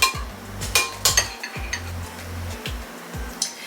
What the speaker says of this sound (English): So I'm just gonna scoop the dip in here.